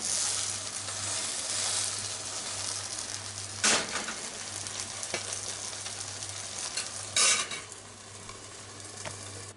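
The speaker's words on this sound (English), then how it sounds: "Fry other side for about 3 minutes." Hashed radish frying in a pan, a steady close sizzle throughout with occasional louder crackles and the scrape of a utensil stirring, no voices.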